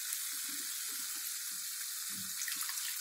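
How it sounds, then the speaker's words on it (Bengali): Water is poured into a pan of frying prawn and poppy seed curry, giving a steady hiss and sizzle with soft, low splashing underneath, fairly quiet and close, with no voices. "একটু জল দেব।"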